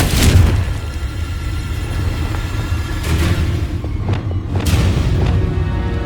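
Heavy magical spell blasts from Bombarda and Confringo in the game Hogwarts Legacy, with several deep booming explosions that roll out and overlap over a loud low rumble.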